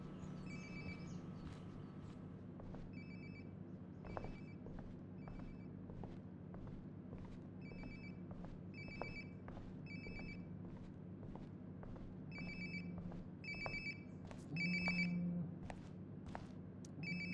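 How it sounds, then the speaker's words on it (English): A phone ringtone repeats in regular bursts nearby in Life is Strange: Before the Storm, high electronic trills recurring about every second, moderately quiet over a low steady background hum. "Sounds like my phone is definitely nearby."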